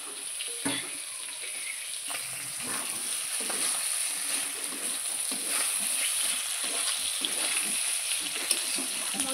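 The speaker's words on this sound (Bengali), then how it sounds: "এবার দিয়ে দিচ্ছি সিদ্ধ করে রাখা মোচা। মোচাটা দিয়ে আবারও খুব ভালো করে কষিয়ে নেব।" Boiled banana flower is stir-fried with spices, potato and onion in a pan, giving a steady close sizzle with frequent scraping and stirring strokes throughout.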